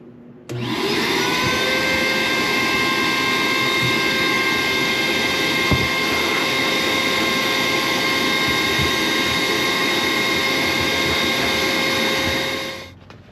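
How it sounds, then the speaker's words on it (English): A loud shop vacuum motor whines steadily at a constant pitch alongside an air compressor, starting abruptly and cutting off near the end, with faint clanks in between, during glass bead cleaning of a 1997 Jeep TJ Dana 30 front differential. "the air compressor is going to be loud, the vacuum is going to be loud"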